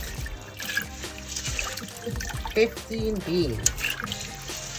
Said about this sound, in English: I'm just getting my beans washed.